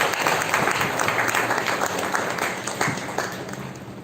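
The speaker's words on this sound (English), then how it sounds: "Please give her a huge round of applause." Steady round of applause from a school audience at a Republic Day prize ceremony, dense clapping that holds evenly and begins to fade slightly at the end.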